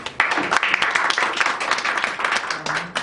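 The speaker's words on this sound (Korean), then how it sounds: "박수 부탁드리겠습니다" Seminar audience applauding a speaker at a Korean legal panel on free-expression laws, a steady dense wash of clapping sustained throughout, fairly close and full with no talk over it.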